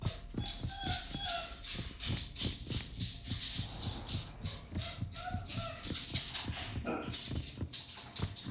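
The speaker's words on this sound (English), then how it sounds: "Here come the dogs." Dogs bark and yelp repeatedly in a witches-and-wizards video game, in quick overlapping bursts with rattling and whimpering, fairly close and continuous.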